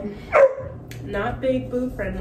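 Dogs indoors let out a few short barks and yips close by, mixed in with someone talking.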